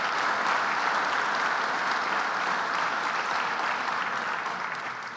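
A round of applause at a building trades dinner, dense sustained clapping from a large room of guests that holds steady and tapers slightly at the end.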